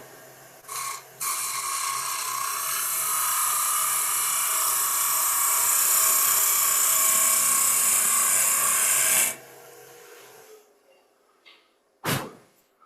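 A bowl gouge cutting a wooden bowl on a lathe gives a loud, steady shearing whir lasting about eight seconds, with a brief cut just before it; it stops abruptly, leaving quieter bench noise and a sharp knock near the end.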